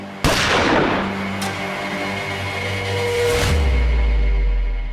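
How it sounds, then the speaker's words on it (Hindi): A sharp gunshot cracks out near the start of a tense crime-drama scene, followed by a second fainter report and another loud bang after about three seconds, with ringing tones and a low rumble trailing off. "फेयरवेल के दिन सुहासनी पे किसके कहने पर गोली चलाई थी?"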